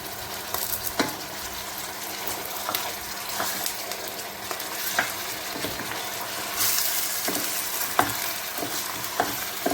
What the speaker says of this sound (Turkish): Yaklaşık 2-3 dakika bagetleri çevirerek soğanla birlikte pişireceğim.